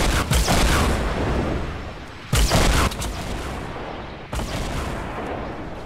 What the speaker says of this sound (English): That's a fair few rockets.